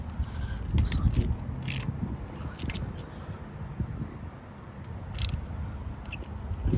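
A socket wrench ratchets while snugging a spark plug into the soft metal head of a CRF engine: sparse, sharp clicks over a low, steady rumble of handling noise, fairly close and moderately loud.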